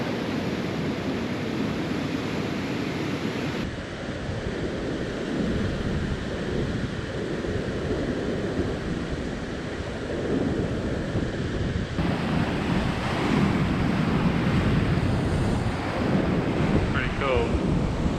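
Continuous roaring surf at Champagne Pools rock pools on Moreton Island's east coast, broadband wash of waves and wind buffeting, steady and loud throughout, no voices.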